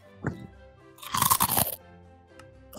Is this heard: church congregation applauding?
no